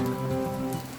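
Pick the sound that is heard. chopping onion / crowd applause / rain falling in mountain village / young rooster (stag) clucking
rain falling in mountain village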